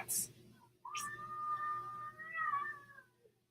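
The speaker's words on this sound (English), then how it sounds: "There's cats outside." A cat outdoors lets out a long, drawn meow that wavers in pitch, following a short sharp noise. It sounds moderately close against a quiet background hum.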